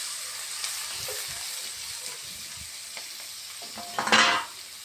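Chilli pieces sizzle in a hot pan as a utensil stirs them, with soft scraping and one louder hissing burst near the end. The sound is close and moderate, with no talking.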